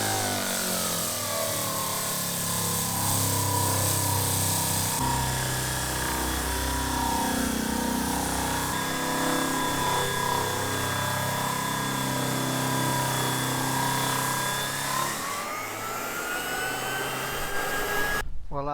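Power sander working across weathered timber deck boards with 80 grit, a steady loud motor whine with a broad abrasive hiss, running continuously close by with a brief shift in tone near the end.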